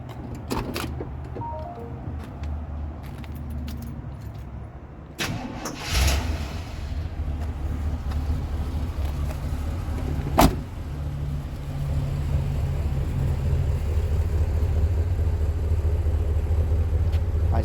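A 1985 Chevrolet C10 Silverado pickup engine cranks and catches, then settles into a steady low idle that grows slightly louder, with a sharp click partway through.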